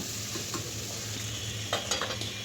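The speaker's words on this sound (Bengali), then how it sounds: "সবজিটা একটু নেড়ে চেড়ে আদা রসুন বাটাটা দিয়ে দিলাম" Winter vegetables stirred in a pan with ginger-garlic paste while cooking khichuri: a continuous close sizzle with a few scraping stirs and light utensil knocks, and no voices.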